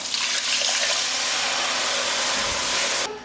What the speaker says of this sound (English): So at this point, we're gonna go in with water.